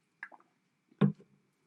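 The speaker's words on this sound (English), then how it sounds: "Let me take a sip of water." Water is sipped close to the mic in a quiet room: a couple of small slurps, then a louder wet gulp and a faint trailing swallow.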